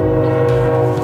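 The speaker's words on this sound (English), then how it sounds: "Has to be a train." A train passing close by with its horn blaring in a sustained, loud, chord-like blast over the low rumble of the rail cars, with no talk.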